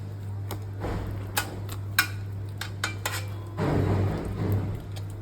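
An oiled metal cooking vessel for pizza sticks is handled and set down, giving several light, close metallic clinks and taps, then a short rough scraping shuffle. No one speaks.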